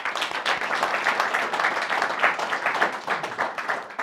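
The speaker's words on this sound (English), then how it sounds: "Give yourselves a round of applause for that." An audience at a talk on addiction recovery applauds, a steady, dense wash of many hands clapping that stays loud and even throughout.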